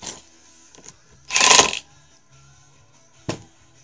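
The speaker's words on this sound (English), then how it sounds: "I'm just going to drive some screws into the tool bench" A Harbor Freight 12V lithium-ion 1/4-inch hex impact driver drives screws into a wooden tool bench: one loud rattling burst of about half a second, then a shorter, sharper one, with faint clicks and quiet between.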